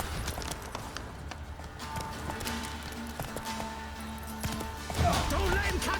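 A horse gallops in The Witcher 3, its hooves clip-clopping in a quick rhythm under game background sound, with a louder burst of activity near the end.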